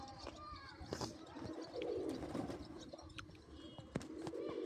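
Pigeons released from their coop coo and flutter close by on a warm day, with soft throaty calls and wing rustles mixed with someone talking over them.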